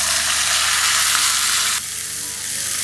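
Loud, dense sizzling of an onion, ginger and tomato mixture frying in hot oil with cumin, a continuous hiss with light stirring that drops to a softer level partway through.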